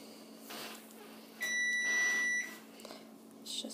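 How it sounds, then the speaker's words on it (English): A kitchen oven sounds a single sustained electronic beep for about a second while preheating, fairly close, with faint room noise and soft clicks around it. "It's just my oven preheating"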